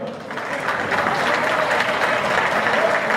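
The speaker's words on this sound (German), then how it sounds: "Großer Applaus bitte" Village festival crowd at a beer-tapping gives a big round of applause, a thick wash of clapping that swells and holds steady, with faint voices mixed in.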